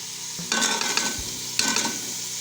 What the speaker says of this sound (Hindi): अब हम इसको अच्छी तरीके से फ्राई करेंगे।